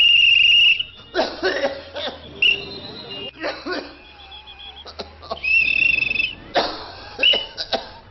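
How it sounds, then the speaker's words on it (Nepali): A person coughs repeatedly in short, harsh bursts, irregularly spaced and close, with a brief high squeaky tone between some coughs. "यो मान्छेले यसरी लगातार खोक्न थाल्नुमा कति भयो?"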